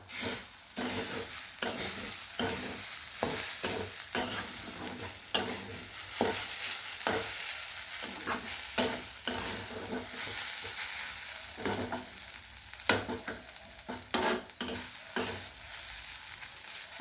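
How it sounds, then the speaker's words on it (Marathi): Soybean bhurji with crushed peanuts stirred in a frying pan, with repeated scraping strokes of a spoon against the pan over a soft continuous sizzle, close up and without talk. "नॉर्मल परत आपण मिक्स करून घेणार आहोत"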